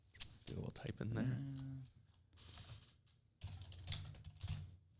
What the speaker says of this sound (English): you want to do a little type in there?